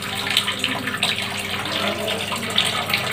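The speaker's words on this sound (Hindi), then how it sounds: "ये पानी फ्री स्टार्ट हो गया।" Water gushes steadily into a Whirlpool top-load fully automatic washing machine, a loud continuous splashing rush with bubbling surges, close by and without talk.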